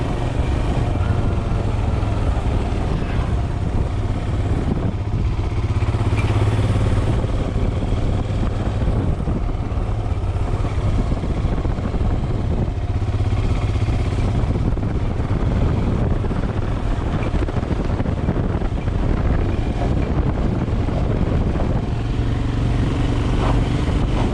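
Royal Enfield Himalayan motorcycle riding during a brake test, a steady loud engine drone with heavy wind buffeting across the microphone throughout.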